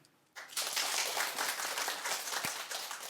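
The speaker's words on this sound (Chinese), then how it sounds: "鼓掌。" An audience at a lecture breaks into applause after a short quiet moment, a dense, even burst of many hands clapping that holds steady to the end.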